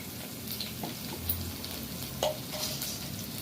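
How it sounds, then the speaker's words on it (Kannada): Cumin seeds and pepper sizzle and crackle steadily in hot oil in a pan, with occasional stirring scrapes, a close, continuous frying hiss with no voices. "ಇದನ್ನು ಚೆನ್ನಾಗಿ ಫ್ರೈ ಜೊತೆ ಜೀರಿಗೆ ಮೆಣಸು ಹಾಕೊಂಡು ಫ್ರೈ ಮಾಡ್ಕೋಬೇಕು."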